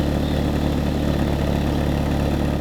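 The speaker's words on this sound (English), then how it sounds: "this was my BMW E36's stock exhaust" A stock exhaust on a BMW E36 318iS idles steadily, a low, even engine rumble that holds constant throughout with no revving and no voices.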